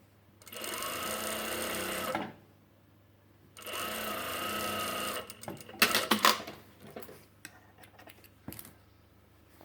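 Sewing machine top stitching an open fabric seam on a plain poncho, two sustained whirring runs of stitching separated by a pause, then a scatter of clicks and short mechanical bursts from adjusting the fabric, close up and with no talking.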